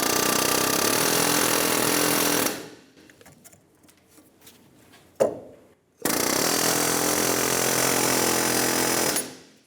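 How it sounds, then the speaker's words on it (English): An air hammer with a chisel twists the front wheel bearing hub inside the steering knuckle of a 2003-2007 Infiniti G35. It gives two loud, sustained bursts of rapid hammering, separated by a few seconds of quieter clanks and knocks. "Using an air hammer with a chisel, we're going to twist the wheel bearing hub inside of the knuckle"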